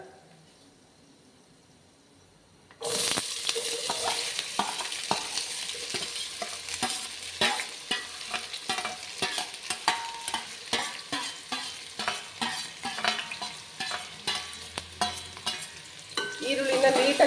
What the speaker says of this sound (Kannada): ಈರುಳ್ಳಿನ ನೀಟಾಗಿ ಫ್ರೈ ಮಾಡ್ಕೊಳ್ಳೋಣ